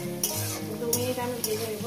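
Onion and garlic fry together in a hot pan, giving a steady sizzle broken by about three sharp spatula scrapes. A low, tonal backdrop runs underneath.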